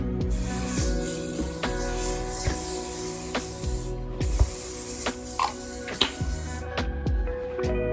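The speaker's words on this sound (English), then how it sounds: "I like to spray my bed with this eucalyptus spray" Repeated hissing bursts of a eucalyptus aerosol spray onto a bed, several short sprays in an uneven rhythm, close and fairly quiet against a steady background hum.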